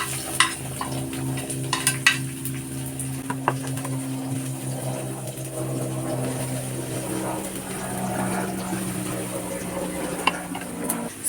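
Onions sauté in a pan with soft sizzling and intermittent clinks of a utensil stirring against metal, under a low steady background hum.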